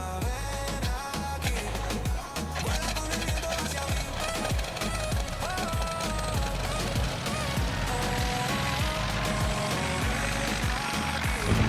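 In Farming Simulator 19, a large tractor or farm machine starts up and settles into a loud, continuous engine rumble. A rhythmic thumping music track plays underneath the whole time.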